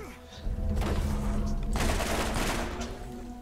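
Machine gun fire in the co-op shooter Borderlands, fought against skags: loud, dense rattling bursts that swell and roll on for about three seconds, with a voice briefly underneath.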